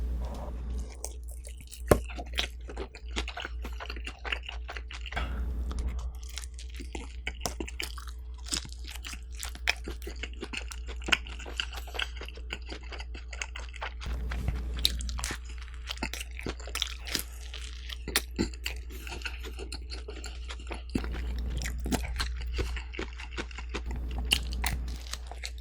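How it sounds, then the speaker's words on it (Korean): Crunchy bites and wet chewing of bulgogi pizza topped with parmesan and plenty of hot sauce, close and steady, with repeated crisp bites spread over the whole stretch and no talking. "불고기 피자에 파마산이랑 핫소스 잔뜩 뿌린 거 먹어볼게요."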